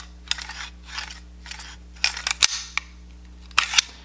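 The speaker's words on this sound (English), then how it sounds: "when it comes to actually inserting the magazines themselves, the original mag is pretty smooth, right?" An original Makarov pistol magazine slides into the grip with a few crisp, close metallic clicks and scrapes, ending in a couple of sharper snaps, with no talking.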